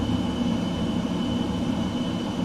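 An F-15EX jet in Microsoft Flight Simulator 2020 drones steadily, a continuous low engine roar with a faint high whine held throughout, no voices.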